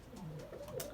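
Racing pigeon, a 2012 cock bird with a red ring, giving soft low cooing calls close by for the full second, steady and unbroken with no talk.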